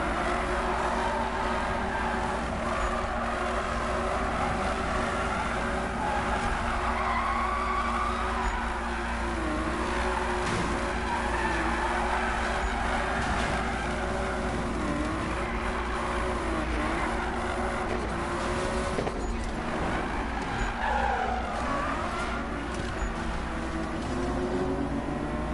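In a Need for Speed race, car engines roar steadily and continuously with shifting revs and tire noise, a dense, loud mechanical drone with no talking.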